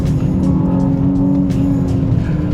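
An Aston Martin DBX S SUV powers hard out of a corner, its engine droning loud and close with a steady, throaty roar under acceleration.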